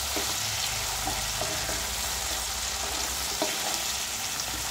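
Tomato with a little salt cooks over lowered heat in a pan, giving a continuous close sizzle. Soft scrapes and clicks of stirring break in now and then, with no one talking.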